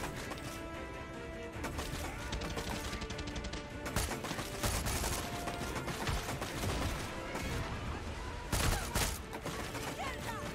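Dense, continuous gunfire from the video game Far Cry 6, with overlapping bursts and shots over a constant noisy battle din, and a few sharper loud hits near the middle and end.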